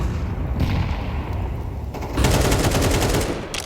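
Grenade blasts and gunfire in a Counter-Strike pro match between Complexity and Liquid at IEM Katowice 2025, a steady rumble of explosions and shots that swells louder partway through, with no talk.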